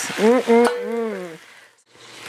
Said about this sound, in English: we'll just take this and put it in the skillet with the green tomatoes